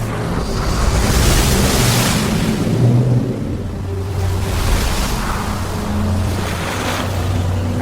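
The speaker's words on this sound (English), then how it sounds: "ses stretched out his hand over the sea, and the Lord caused the sea to go back by a strong east wind all that night" Loud, continuous roar of sea waves and a strong east wind, the surf swelling and easing in broad surges with no voices.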